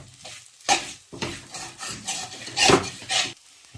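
Sheera roasting in a pan over a low flame, stirred with repeated scraping strokes, each a rough rasping rub followed by soft sizzling, close and fairly loud in an irregular rhythm.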